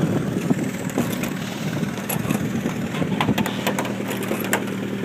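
Small aircraft engine running steadily during a preflight checkout, a continuous low droning hum with faint intermittent clicks and knocks over it, fairly close and even in level throughout.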